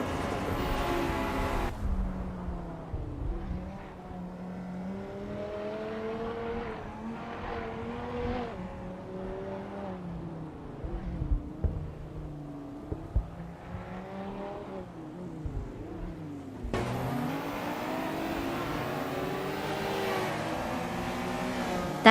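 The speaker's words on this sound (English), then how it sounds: "Danny 2020 is driving a 1995 Ferrari 50, known for its lightweight design and formidable V12 engine" Racing engines from a video game, including a 1995 Ferrari with a V12, whine and rise in pitch through repeated gear shifts. A sharper burst of revving comes near the end, with no talk.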